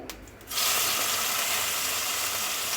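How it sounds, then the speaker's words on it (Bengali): Shrimp hit hot mustard oil in a pan for a mukhi kochu recipe: a quiet half-second opening gives way to a sudden loud, broad sizzle that holds steady and close with no speech. "হ্যাঁ, ভেজে নেবে আমি একটু ভেজে দেখাচ্ছি"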